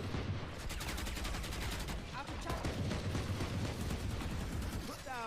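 Rapid rifle fire from the Guardian in a Valorant esports match fills the whole stretch as repeated sharp shots and bursts, layered with dense game effects and caster commentary.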